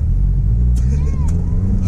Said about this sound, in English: Could you do, like, a burnout or something?